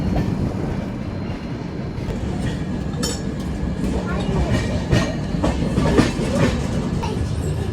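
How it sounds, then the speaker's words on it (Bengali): The Poorva Express, a 12381 Howrah–Delhi train, runs into Prayagraj Junction at night, heard from inside an AC third-class coach. A steady loud rumble carries clickety-clack wheel beats and sharp metallic clinks that grow stronger toward the end. "বারাণসীর পর আমাদের ট্রেন এখন এন্ট্রি করছে প্রয়াগরাজ জংশন"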